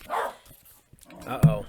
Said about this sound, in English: that's just the dog barking